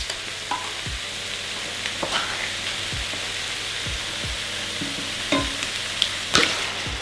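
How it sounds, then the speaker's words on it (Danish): A wok stir-fry sizzles steadily as coconut milk goes in, with a hiss of frying and several sharp scraping and stirring knocks of a utensil against the pan. "Nå, jeg tilsætter også kokosmælken nu."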